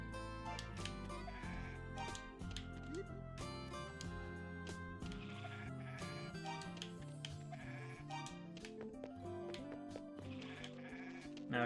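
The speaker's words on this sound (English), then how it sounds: "Feed the 2 sheep and 1 goat." Sheep and goat bleats from the video game Ys I & II, a few short cries popping out over dense, continuous game music with busy melodic layers throughout.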